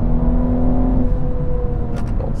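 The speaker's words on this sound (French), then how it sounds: "on retrouve quand même le bruit caractéristique du 6 cylindres BMW" A 2022 BMW M240i xDrive six-cylinder engine hums steadily at close range with a smooth, droning tone heard from inside the car, settling slightly as the pitch eases.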